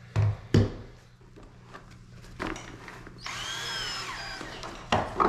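A power drill bores through a plastic tackle box, with short bursts of drilling and knocks early on, then a longer whining run as the bit comes through, close and fairly quiet.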